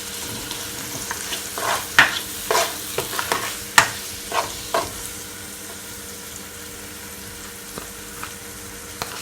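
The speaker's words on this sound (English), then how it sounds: "You just want to give it a good stir so everything will all combine." A spoon stirs rice and mixed vegetables in a hot pot for Jamaican seasoned rice with sardines, giving scraping, clattering strokes over a soft continuous sizzle, busiest in the first half and then tapering off.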